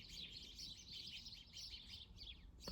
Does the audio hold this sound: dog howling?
no